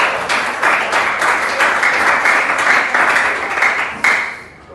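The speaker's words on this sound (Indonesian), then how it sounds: "Tepuk tangan dulu teman kalian." Pupils in a classroom clap for a classmate who answered correctly, a loud burst of applause that drops off sharply at the end.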